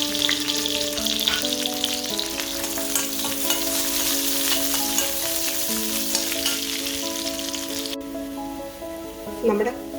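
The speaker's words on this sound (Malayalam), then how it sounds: "കടുകും എല്ലാം പൊട്ടി അതിനകത്തോട്ടൊരു വറ്റൽമുളകും കൂടെ ഇടുക" Mustard seeds splutter in hot oil while a curry tempering is made, with dried red chilli going in; a steady, dense crackling sizzle runs throughout over sustained tonal background music, with no speech.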